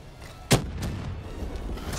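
A grenade blast bursts with a single sharp, loud boom in Call of Duty Black Ops III, then a dull rumble of battle noise lingers underneath for the rest of the moment.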